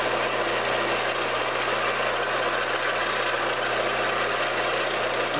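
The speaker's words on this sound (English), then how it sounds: "I may even try to spin the lathe up a little faster." A wood lathe spinning while turning a Christmas ornament gives off a steady, unbroken motor hum and whir at even loudness throughout, with no voices.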